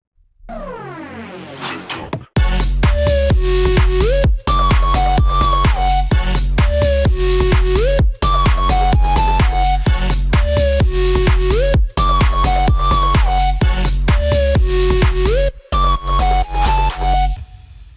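An STMPD Records–style electronic dance drop plays after a rising build, with a pounding four-on-the-floor kick, heavy bass and a bright repeating lead riff, loud and continuous with brief gaps between phrases.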